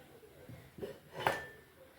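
Metal lid set onto a pot of radish curry, a few soft clinks and taps followed by one sharper ringing clank, quiet and close in a kitchen.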